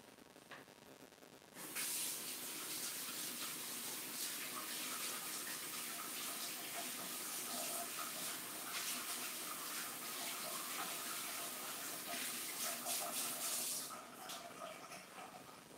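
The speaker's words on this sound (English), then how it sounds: "Now I'm going to wash my hands, okay?" Hands are washed under a running tap, a steady hiss of spraying water that starts abruptly, runs close and even for about twelve seconds, then cuts off, with no talk.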